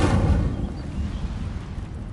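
The Incendio fire spell bursts in Hogwarts Legacy with a heavy, roaring whoosh that starts loud and rumbles steadily, a dense low-end blast with no voices over it.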